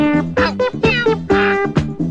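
A cat meows repeatedly within a children's song, several clear, close, tonal meows in a quick uneven rhythm, fairly quiet overall.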